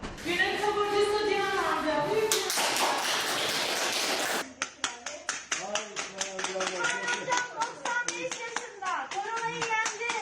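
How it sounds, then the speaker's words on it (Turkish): Health workers applaud recovered patients as they leave a hospital: steady, dense clapping from a group fills the scene, with voices and someone speaking mixed in, then sharper, separated claps continue to the end. "Birisi yenen, yeniden yaşama dönen hastalarını hastaneden alkışlarla uğurladı sağlık çalışanları."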